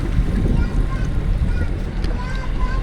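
Small waves lap and splash steadily against the stern and right side of a sailing boat on the Mediterranean Sea, with wind rushing over the microphone throughout.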